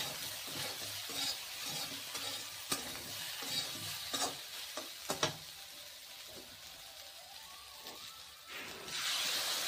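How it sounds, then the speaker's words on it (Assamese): Eel pieces and potatoes with turmeric and salt are stirred in a hot pan, giving a soft continuous sizzle broken by scraping, clattering strokes of a spoon, with no talking. "তাৰপিছত কুচিয়া আৰু আলুখিনি দি দিলো তাতে হালধিও দিলো নিমখো দিলো ধুনীয়াকৈ লৰাই দিম"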